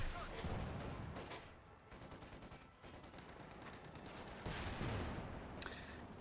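A Sherman tank fires during a Company of Heroes 2 battle: repeated gun reports over a dense rattle of small-arms fire and explosions, while a commentator talks throughout.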